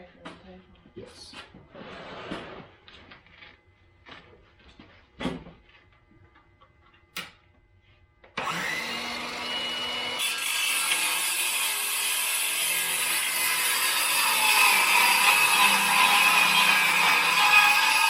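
A handsaw cuts wood for the sides of a chicken feeder, starting with scattered knocks and taps, then a steady, loud rasping stroke that runs continuously to the end, with voices talking near the start.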